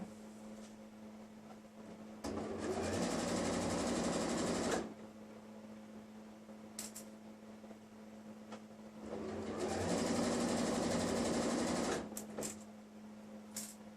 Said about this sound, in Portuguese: E agora que tá sem alfinete, eu vou puxando. E já vou costurando.